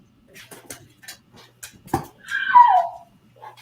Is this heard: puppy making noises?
yes